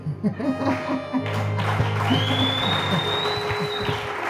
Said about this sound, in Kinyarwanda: Kamere yacu amashyi menshi cyane